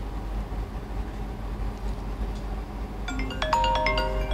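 A mobile phone rings with a bright electronic ringtone from an incoming call placed by a KC868-A8S 4G module, starting after a few seconds of quiet room hum and repeating in short tonal bursts.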